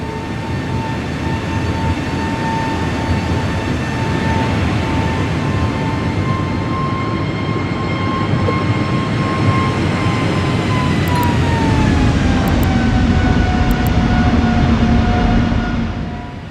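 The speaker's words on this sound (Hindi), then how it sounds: "शाम के 7:02 पर प्लेन बार्सिलोना एयरपोर्ट से टेक ऑफ कर गया" A Vueling Airlines passenger jet (flight 2220) takes off from Barcelona airport in the evening, its engines a loud steady roar with a high whine that drops slightly in pitch as it climbs away.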